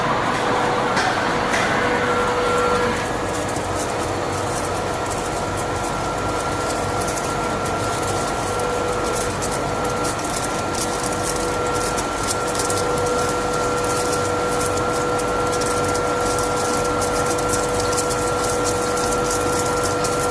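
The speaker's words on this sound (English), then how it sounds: "let's check the quality of ice flakes made by this 10 ton per day capacity flake ice machine" A 10-ton-per-day flake ice machine runs with a loud, steady mechanical drone and hum, with a constant tonal whine and a hissing, rushing wash throughout, and no talk.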